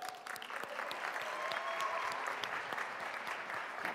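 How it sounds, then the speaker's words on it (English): Audience applause at a startup pitch competition, steady clapping from a crowd held at an even level throughout, fairly distant and with no voices over it. "Keep applauding."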